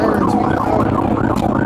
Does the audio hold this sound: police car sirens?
yes